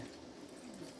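Tap water runs steadily into a canning jar during cranberry juice canning, a continuous close, faint splashing stream with no voices over it.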